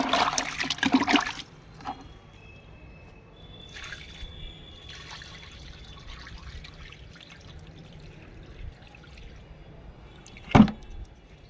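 Wheat grains are rinsed in water, with a loud burst of splashing and pouring at the start, then quieter drips and trickles, and a sharp splash near the end.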